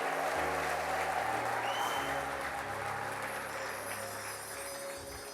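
A crowd applauds steadily with high, trilling ululation rising above the clapping, fading slightly toward the end.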